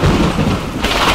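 Thunder rumbling under steady heavy rain, a loud continuous roar with a deep low boom, close and without speech.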